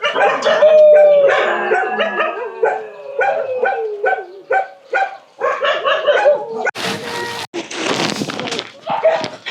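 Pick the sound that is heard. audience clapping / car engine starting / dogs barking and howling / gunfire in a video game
dogs barking and howling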